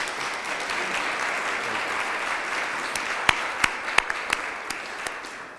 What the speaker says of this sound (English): let's give yourself a round of applause for coming, showing up.